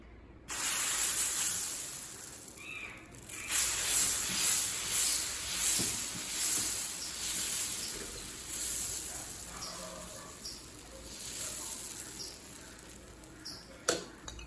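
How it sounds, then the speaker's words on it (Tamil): Multigrain dosa batter hits a hot griddle and sizzles with a steady bright hiss that swells and fades over several seconds. The sound is close and continuous, with a few faint clicks. "இப்போ தோசைக்கல் சூடாயிடுச்சுங்க, நம்ம தோசை ஊற்றிடலாம்."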